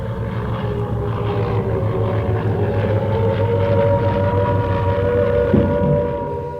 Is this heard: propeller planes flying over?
yes